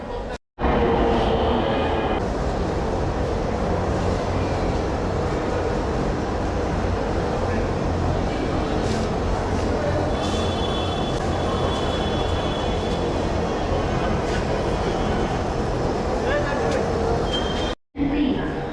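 A Dhaka metro rail train pulls out of the station with a broad rumbling rush and faint wheel squeal, heard steadily over platform hubbub before a brief cut near the end.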